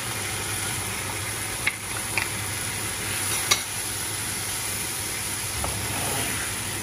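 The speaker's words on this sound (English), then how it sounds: "I'm adding the bowl of potatoes now." Potatoes being added to a lamb samosa filling and stirred in a hot pan, a steady close sizzle and frying hiss with a few soft scrapes and knocks of the utensil.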